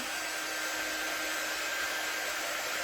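A hair dryer blows steadily and close at full speed, drying fresh paint on a decor piece, a constant whine with no pauses.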